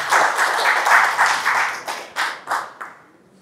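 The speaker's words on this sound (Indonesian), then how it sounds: "Kita berikan tepuk tangan." An audience at a regional organisation's gathering in Kalimantan Barat claps together for an honoured local chairman, a dense burst of handclaps that thins into a few fading scattered claps near the end.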